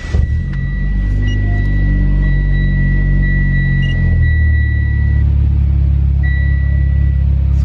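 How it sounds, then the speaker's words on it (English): Turbocharged Mitsubishi Lancer engine cranking and catching, then settling into a loud, steady low idle rumble with a faint high electronic whine above it, close by and without talk. "right now I'm gonna go ahead and start up the car"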